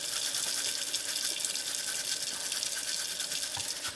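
A small brush with soap scrubs the cylinder of a rotary cheese grater, making a soft, continuous wet bristly hiss that stays close and steady with no talking.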